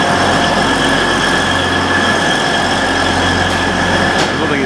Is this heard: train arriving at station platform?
yes